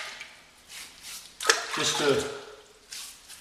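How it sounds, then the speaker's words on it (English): Water splashed onto a face before a shave makes a brief, close wet slap and trickle in the middle, surrounded by quiet with a little speech. "splash a little water on your face"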